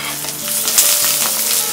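Garlic frying in a pan for chutney, a dense steady sizzle with stirring scrapes close by, no voices.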